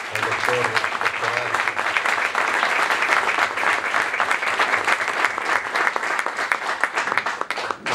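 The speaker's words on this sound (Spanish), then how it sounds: "Démosle un fuerte aplauso" An audience applauds a speaker at a formal public event in Argentina: sustained, dense clapping from many hands that holds steady for about eight seconds.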